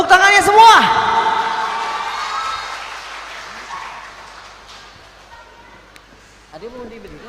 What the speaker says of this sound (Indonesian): Minta tepuk tangannya semua.